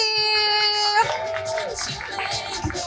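Audience applause and cheering at an intimate talkshow launch event, a dense crowd clapping after a sustained tonal intro, lively and close throughout the short stretch.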